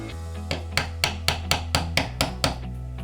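Hammer driving a punch against a door hinge pin to work it out, about nine crisp, evenly spaced metal strikes in quick succession, close by over a low steady hum.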